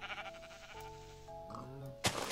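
Sheep bleating in a Minecraft modpack game, a few wavering tonal bleats over background game music, ending in a sudden loud hit or crunch.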